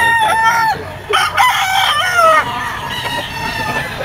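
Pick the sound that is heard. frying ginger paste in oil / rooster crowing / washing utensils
rooster crowing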